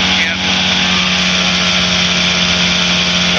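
A light aircraft engine with the throttle eased back for landing practice drones steadily and loud from start to end, a constant buzzing hum with a firm low tone that never pauses.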